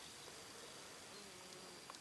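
Bees buzz faintly around a flowering goji shrub on an autumn day, a soft, steady drone in the distance over quiet outdoor background.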